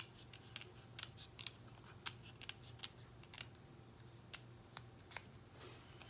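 Scissors snip through copper foil for a tin tile craft piece, a run of crisp, quiet cuts at an uneven pace over a low steady hum, with no voices.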